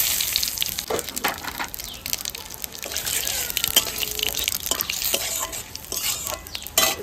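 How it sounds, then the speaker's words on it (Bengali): Cumin seeds and bay leaves tempering in hot oil for a Bengali taro curry make a soft, continuous sizzle, broken by frequent scraping and clinking as a utensil stirs the pan nearby. "তার জন্য ফোড়নে দেবো জিরে আর তেজপাতা"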